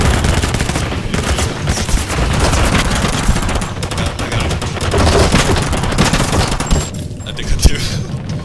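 Dense Call of Duty gunfire rattles almost continuously in loud automatic bursts and heavy shots, with voices talking intermittently over the shooting.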